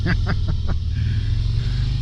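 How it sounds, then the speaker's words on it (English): A 2023 Harley-Davidson Road Glide ST with the 117 engine idles at a standstill, a deep steady rumbling throb beneath someone talking close by. "The engine vibration at a standstill is a lot more than most, I'd say"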